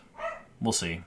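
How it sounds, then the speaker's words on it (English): A dachshund barks indoors, a couple of short yips that are fairly faint under a man's nearby speech. "I apologize for the dachshund barking."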